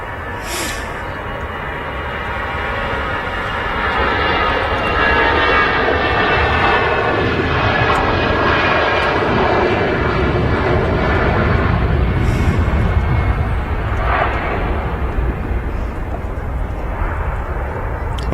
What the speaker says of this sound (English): EasyJet now rolling